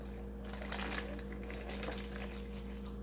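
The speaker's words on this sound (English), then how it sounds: "we're gonna fill this up. Dry measuring cup with water." Tap water runs into a dry measuring cup with a constant close hiss, steady and unbroken, while a low hum sits underneath.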